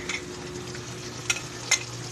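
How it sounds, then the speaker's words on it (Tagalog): Onion, garlic and tomato sautéing in a pan: a low, steady sizzle with two sharp scrapes of a utensil stirring against the pan, close and alone with no voices. "Tapos ko na yung ginisa yung mga ricado. Sibuyas, bawang, kamatis"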